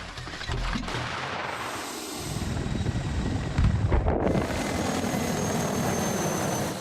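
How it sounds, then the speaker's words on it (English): Aircraft drone steadily overhead during a military exercise, a continuous engine and rotor roar with a louder swell partway through and no voices. "Bombers in the sky."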